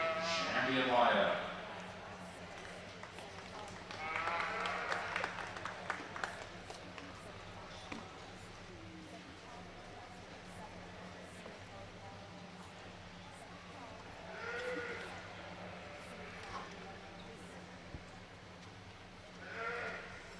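Commercial breeding ewes bleating in a show ring at a livestock stock show, a few sheep calls rising now and then over a constant low hall hum and crowd murmur, with people talking.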